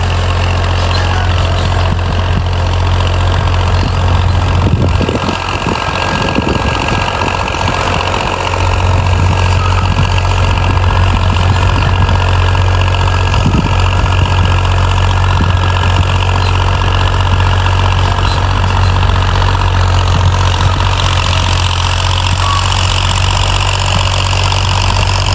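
A 1994 Ursus tractor fitted with a disc harrow idles steadily and loudly close by, its low diesel rumble and knocking continuous throughout with no talk.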